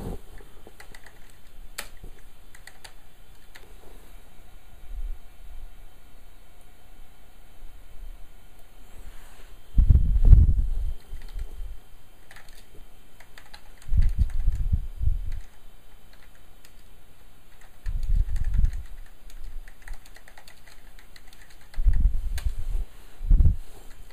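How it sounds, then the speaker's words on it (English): Typing on an Apple Macintosh Classic II keyboard, soft intermittent bursts of key clicks separated by quiet pauses, faint and close over a low background hum. "Now you can start typing away here."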